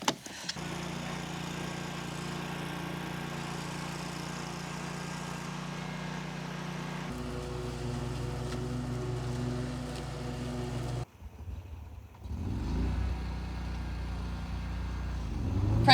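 A lawn mower engine drones steadily at a homestead, a continuous mid-distance rumble that shifts in pitch partway through, briefly drops, then resumes with no speech over it.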